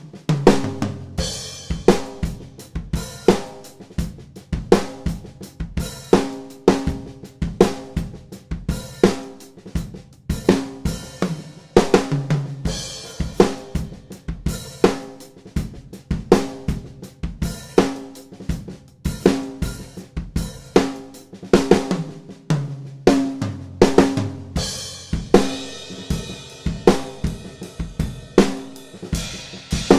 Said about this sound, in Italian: poi suono direttamente la batteria con tutti i volumi meno 12